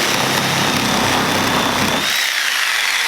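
Power saw cutting into the front end of a Ford Mustang, a harsh, loud, whining cut that drops off abruptly partway through, with no voices.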